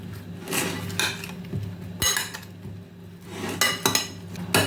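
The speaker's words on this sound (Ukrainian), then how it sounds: "І все зараз перемішаємо, змішаємо, змішаємо." Marinated zucchini is stirred with olive oil in a bowl, with several bursts of clinking and scraping against the bowl, spaced irregularly and close by.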